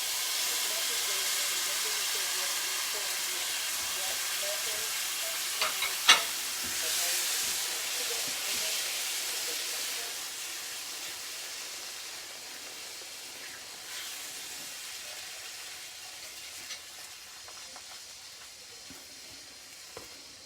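Fresh tomatoes hiss and sizzle steadily in a hot pan while a Kerala-style fish curry cooks, a broad, even steam-like crackle with a brief clink partway through.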